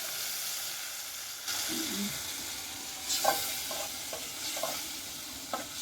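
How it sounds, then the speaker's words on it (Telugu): Green chillies sizzle in hot oil in a pan while being stirred for a Telangana-style chilli and brinjal curry, a steady hiss with scraping spoon strokes and small clinks, alone without talk. "అదే మిరపకాయలు వేసుకోవాలి. కలుపుకోవాలి."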